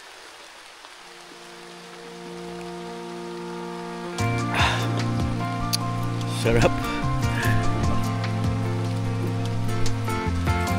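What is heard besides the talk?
rain falling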